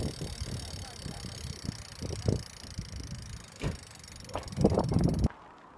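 Someone rides a bicycle outdoors, with scattered rattles, knocks and bumps over a light wind noise, and a louder cluster of clattering just before the sound cuts off.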